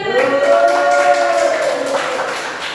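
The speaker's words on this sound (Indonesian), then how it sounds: "Tepuk tangan untuk tokoh P5." A classroom group claps in rhythmic bursts for fellow students, with children's voices chanting along in a sustained, sing-song tone over the claps.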